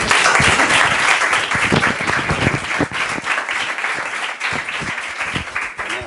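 A lecture-hall audience breaks into applause after a class session, a dense, steady clatter of many hands that stays loud and continuous throughout.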